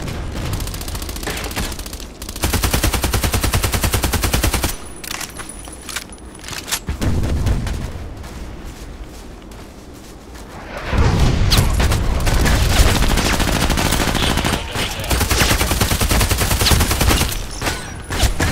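Gunfire in the Contract Wars shooter, loud bursts of automatic rifle fire and booms that come in clusters with short gaps between them. Almost no talk is heard.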